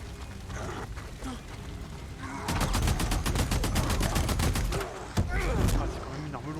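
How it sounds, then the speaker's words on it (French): Heavy weapon fire in the Days Gone video game: a rapid burst of loud shots begins midway, with a brief pause before firing resumes, over low game ambience. "c'est quand même une arme lourde que j'ai dans les mains"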